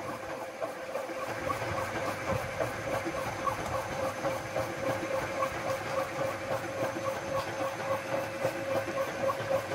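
Honey extractor spinning honey-filled frames at increased motor speed, a steady mechanical whir with rapid regular rattling and a faint hiss, continuous and close throughout.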